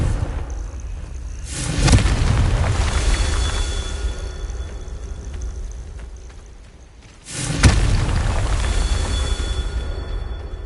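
Confringo spell blasts in Hogwarts Legacy, two separate fiery explosions roughly six seconds apart, each a sharp loud burst followed by a rumbling, crackling tail.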